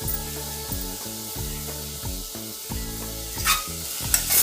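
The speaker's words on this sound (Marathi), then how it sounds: "हा टोमॅटो मऊ होईपर्यंत परतवून घ्यायचं टोमॅटो परतवत असताना यामध्ये थोडी कोथिंबीर घालायची" Tomatoes with spices sautéing in a pan for shevgyachi khichdi: steady sizzle and frying hiss with repeated spoon-stirring scrapes, close up, no speech.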